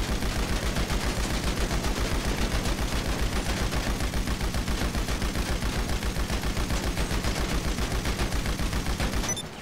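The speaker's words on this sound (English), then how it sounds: "Don't like that heavy machine gun" A heavy machine gun firing in GTA 5, a loud continuous stream of rapid, evenly spaced shots that runs nearly ten seconds before stopping abruptly.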